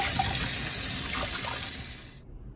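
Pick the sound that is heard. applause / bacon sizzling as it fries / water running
water running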